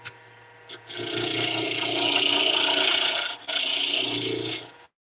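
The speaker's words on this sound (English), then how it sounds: "I'm going to show you the roughing gouge doing its thing" Roughing gouge cutting down a wooden pen blank spinning on a wood lathe, a steady close rasping scrape that runs for several seconds with one short break near the end.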